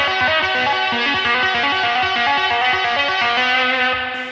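Heavily distorted electric guitar runs a two-handed tapping sequence, shifting down the neck; a rapid, continuous stream of loud tapped notes with a saturated, buzzing tone, played solo with no speech.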